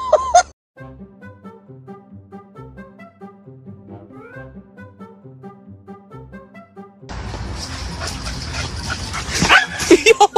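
A dog makes small yipping, whimpering sounds in a rhythmic run close by, followed by a louder, noisier burst of mixed sound at the end.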